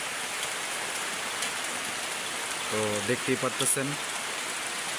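Steady rain falls outdoors as a dense, even hiss throughout, and near the end someone speaks briefly over it.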